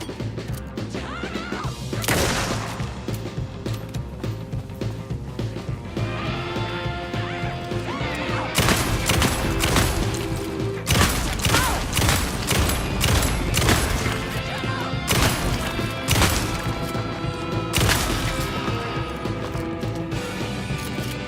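A rapid stream of loud gunfire and impacts from Alan Wake 2 fills the scene, with bursts of shots and crashes coming in dense clusters and short pauses between them.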